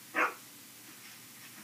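A dog in The Walking Dead Season 2 video game gives a single short bark at moderate distance, followed by quiet background ambience.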